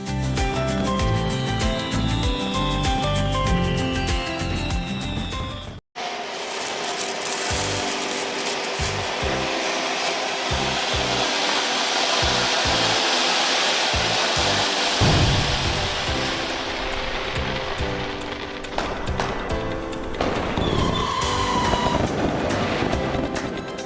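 Diwali firework fountains from Sivakasi, Tamil Nadu, give off a dense, continuous, crackling hiss that cuts out briefly before resuming just as loudly and steadily.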